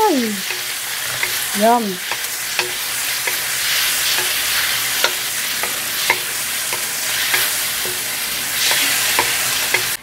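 Chicken for pancit bihon hits a very hot pan and sizzles loudly and steadily, with stirring scrapes through the sizzle and a brief exclaimed voice near the start.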